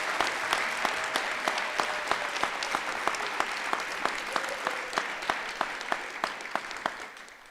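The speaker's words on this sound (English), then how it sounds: "Please give a big round of applause for these amazing nominees." An audience at a youth recognition ceremony applauding nominees, a sustained roomful of clapping with some sharp, evenly spaced claps standing out near the front, fading slightly at the end.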